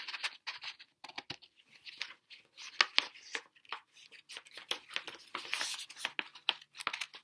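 Scissors snipping through thin rolled material along a traced outline, a quiet series of irregular cuts, crinkles and rustles close by, with no talking.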